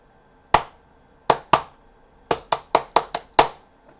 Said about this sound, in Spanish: ponga diferentes ritmos con aplausos